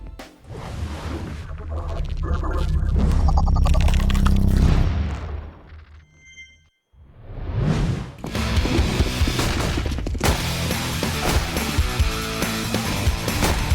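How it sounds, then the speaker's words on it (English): Gunfire during a professional Counter-Strike esports match, heard as dense bursts of rifle shots and booming game effects, dropping briefly to near silence midway before loud, busy game audio returns. "Oh my god, 3 headshots for Xanteres."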